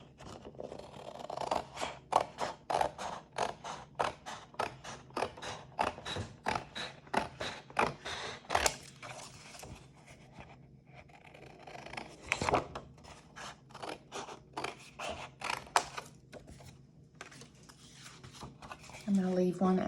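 Scissors cut paper into 6-inch squares for mandala dot painting, a steady run of close, crisp snips and creaks repeating for most of the span, with a few pauses between cuts.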